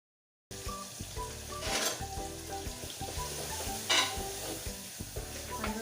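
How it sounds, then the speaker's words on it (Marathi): Spices frying for a dal tempering in a home kitchen: steady, crackling sizzle with bursts of spattering, close and moderately loud, with no talk. "डाळीला फोडणी वगैरे होत आहे"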